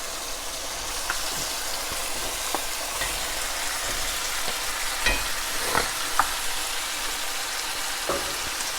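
Meat sizzling and frying in a pan of evaporating wine, a steady hiss broken by scattered crackles and pops, with occasional clinks of stirring close by and no talking.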